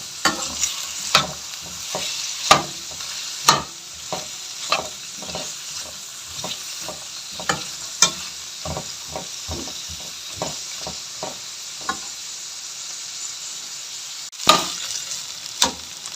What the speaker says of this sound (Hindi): इसको हम तकरीबन 4 मिनट के लिए फ्राई कर लेंगे। बस जस्ट प्याज का हमने हल्का सा कलर चेंज करना है।